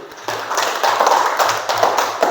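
Students clapping in a classroom, a short close round of brisk, uneven claps with faint voices mixed in.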